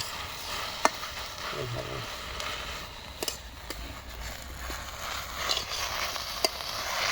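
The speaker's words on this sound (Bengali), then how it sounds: "এখন জাল জ্বলবে আর আমি শাকটা ভেজে নেবো" Moringa leaves dry-frying in a pan without oil give a soft, steady hiss, broken by occasional sharp clicks of a utensil against the pan and faint scraping, fairly quiet with no talking.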